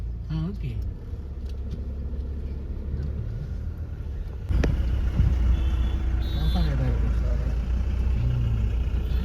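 Car driving up to Z Point near Sagareshwar, a steady low engine and road rumble with wind buffeting that grows louder partway through, people talking over it.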